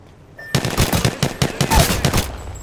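Video game gunfire, a loud rapid burst of automatic shots in quick rhythmic succession after a brief quiet start, close and without talking.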